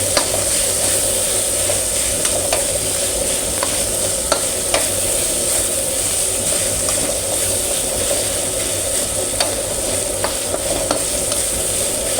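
Beef curry sizzles in a wok over an old oil stove fuelled with lard, a steady loud frying hiss with occasional sharp metallic taps of stirring, continuous and close, no talking.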